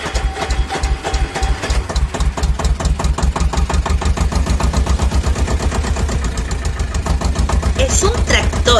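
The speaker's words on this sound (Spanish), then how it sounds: "Es un tractor." A tractor engine runs steadily and loudly, with a fast, even chugging rhythm of dense mechanical pulses that continues throughout and slightly intensifies toward the end.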